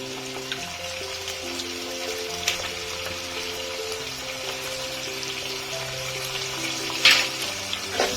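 Brinjal pieces frying in a pan with salt and turmeric, a steady close sizzle running throughout, with a brief louder crackle near the end and no talk.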